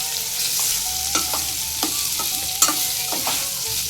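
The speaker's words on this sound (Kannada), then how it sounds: "ಹಾಗಲಕಾಯಿ ಫ್ರೈ." Home-grown bitter gourd frying in a pan, giving a steady close sizzle broken by several soft stirring scrapes of a spatula.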